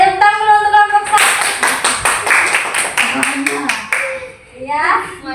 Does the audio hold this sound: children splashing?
no